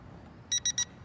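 A handheld remote controller for an Eachine 520S drone gives three quick, high, bright beeps in a row, close and clear against a quiet background.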